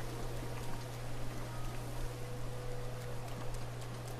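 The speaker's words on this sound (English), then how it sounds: "So the rain will um, extinguish fires." Rain in the video game The Legend of Zelda: Breath of the Wild, a steady soft patter of falling drops over a low constant hum, continuous and even throughout.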